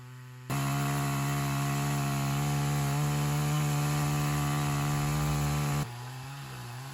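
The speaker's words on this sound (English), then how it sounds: "So we got the chainsaws out and Jack had a lot of fun watching that" A chainsaw cutting logs roars steadily at close range for several seconds, then drops back to a lower idle.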